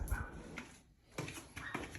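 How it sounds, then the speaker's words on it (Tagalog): A Pomeranian outdoors gives short yips and whimpers in a few brief bursts, separated by quiet gaps, at moderate distance. "Ngayon, tahol ng tahol."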